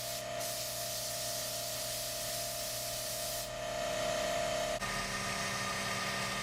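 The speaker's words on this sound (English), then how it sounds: "Damn, that compressor's loud. Blow off the piece so the glue sticks." An air compressor nozzle blasts a piece of wood clean before gluing a DIY barn door, giving a loud, steady hiss that runs for several seconds and then shifts pitch as the airflow changes.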